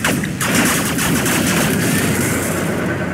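Missile launcher fire from infantry in Generals Zero Hour comes as a loud, dense barrage of blasts and booms, a sustained burst that continues without pause throughout.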